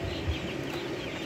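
Chickens in an urban poultry house holding about 1200 birds in a 4 by 5 metre room, a dense steady murmur of clucking and rustling at close range, with no talk.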